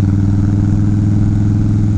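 A 2011 Harley-Davidson Wide Glide, stage one with a Harley high-flow filter and a Dynojet Power Vision tuner, rumbles on a test ride through a residential area. It gives a loud, steady, close engine drone throughout, with no talk.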